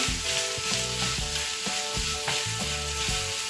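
Onions are added to browning meat in a pan for sac kavurma and stirred, giving a loud steady sizzle with regular scraping strokes from the stirring.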